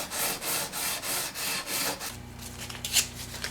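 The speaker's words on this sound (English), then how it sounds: "you can use your sanding beam just like this to make sure that everything is nice and even" Rhythmic back-and-forth rubbing of a sanding beam leveling guitar frets flush on a neck, about eight close strokes, then a lower hum and a soft tap.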